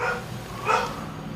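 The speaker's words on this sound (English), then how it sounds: "excuse my dogs are barking" Two short dog barks ring out indoors at a home cockpit setup, the second louder and sharper, both somewhat muffled at a moderate distance.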